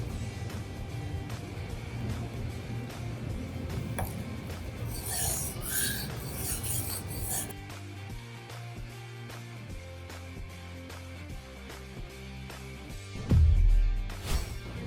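A knife is stroked along a 400 grit sharpening stone, giving repeated close rasping scrapes for several seconds before they give way to quieter tonal background sounds and a short louder knock near the end.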